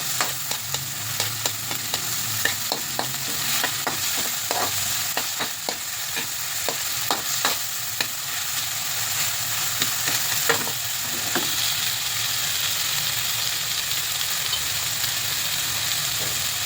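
Three tomatoes sauté in a frying pan for a breakfast dish. A loud, continuous sizzle runs throughout, with frequent small clicks and scrapes from a utensil stirring close by.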